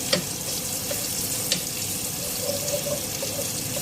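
Pancetta frying in a hot oiled pan, a dense, even sizzle close by with a couple of small taps from the utensil and no talking.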